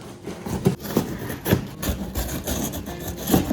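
A blade scrapes and saws through a large cardboard parcel box in uneven strokes, close and fairly loud, with no voices.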